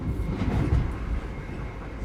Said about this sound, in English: The train is moving. You can feel it.